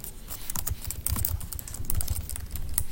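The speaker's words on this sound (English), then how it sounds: "They can just type their comments right underneath, right?" Rapid typing on a computer keyboard as comments are entered into a Google Doc, a close, steady stream of crisp key clicks with irregular rhythm and no talking.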